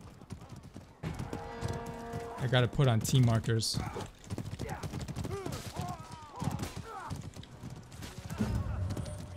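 Horse hooves clip-clop in the medieval combat video game Mordhau amid spear battle noise, intermittent and fairly near, partly masked by a player talking over the game sounds.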